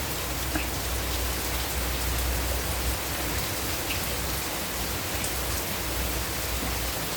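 Dense, heavy rain pours steadily onto surfaces, a constant loud wash of noise with no pauses.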